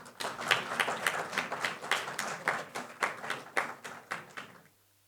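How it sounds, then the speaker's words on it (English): An audience applauds at a product launch showcase with a dense run of claps in a loose rhythmic pulse that swells and then fades out, with no speech over it. "Round of applause, please."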